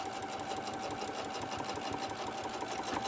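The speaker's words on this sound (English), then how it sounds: "I'm going to try to sew it curved" A sewing machine runs steadily, stitching a curved seam on a small fabric bottle-and-can koozie, with a fast, even mechanical rhythm and a constant whine held close and loud for the whole stretch.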